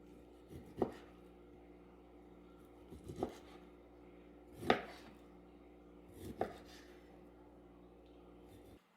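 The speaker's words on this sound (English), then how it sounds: "And then we're going to cut it into small chunks." A knife chops ingredients into small chunks on a cutting board for bacon-wrapped pineapple chicken bites, four faint, separate thuds spaced about two seconds apart in a quiet kitchen.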